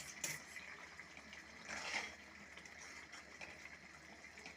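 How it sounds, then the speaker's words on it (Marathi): Hot water pours into a matar paneer curry cooking in a pan, producing a faint, steady gushing splash with a brief louder surge midway. "आता यात घालणार आहे मी मस्तपैकी गरम पाणी"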